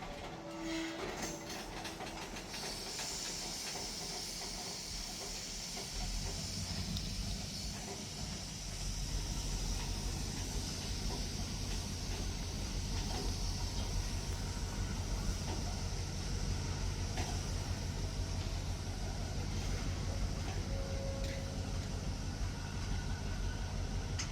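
A long, heavy freight train hauled by three locomotives moves steadily past, its engines droning low while air hiss and rhythmic wheel clatter build and continue at a constant, fairly close level.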